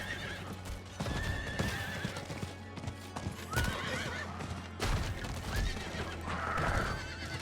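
In Diablo IV, a horse's hooves drum in a quick galloping rhythm for the whole stretch while the animal neighs loudly several times, close and prominent over a low game soundscape.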